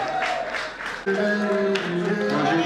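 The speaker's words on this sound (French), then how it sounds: "Applaudissements" An audience at the 2024 CCM Côte d'Ivoire awards ceremony breaks into bursts of clapping. The applause fades after about a second as sustained music takes over, with faint clapping still mixed underneath.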